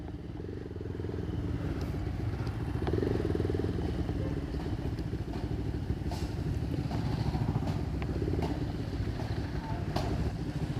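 A motorcycle engine rumbles close by for a sustained stretch, mixed with clattering street noise and a few sharp knocks.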